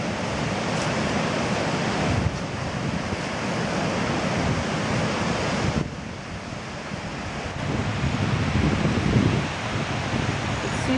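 A loud, continuous rush of water falling over a dam spillway, with gusts of wind buffeting the microphone and no voices.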